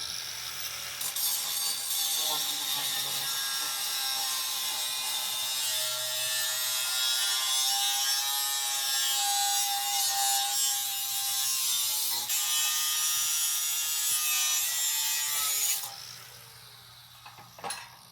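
Metal stock for homemade forklift fork extensions being cut, a loud continuous grinding whine lasting about fifteen seconds, close by, then cutting off abruptly with a brief clatter afterward.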